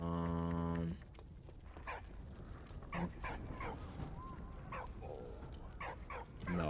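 A dog in Valiant Hearts gives a series of short, fairly faint barks and yips, scattered irregularly over a low background of game ambience.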